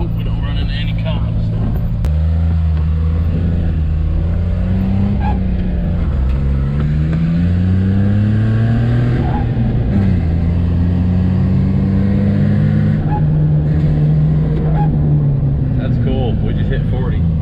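A 1996 Suzuki Carry mini truck with a rebuilt F6A engine drives along, its small engine humming loudly and climbing in pitch through the gears under road rumble, with occasional talk inside the cab.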